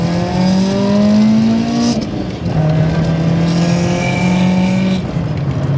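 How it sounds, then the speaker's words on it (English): A supercharged BMW E30 318is accelerates hard, its loud, close engine note climbing through the revs, dropping at a quick gear change, then rising again. "Let's see what a supercharged E30 goes like."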